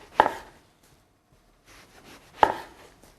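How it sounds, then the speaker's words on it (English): A knife slices through eggplant on a cutting board in two sharp, close chops about two seconds apart, with soft scraping in between and near-silence otherwise. "So I'm just going to cut the pieces around 1 centimetre thick."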